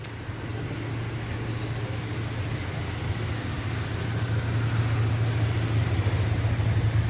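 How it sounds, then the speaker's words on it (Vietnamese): A steady engine drone from a nearby vehicle on a mountain road damaged by landslides rumbles on and slowly grows louder, with road noise underneath and no voices. "Xe cộ đi lại rất là nguy hiểm."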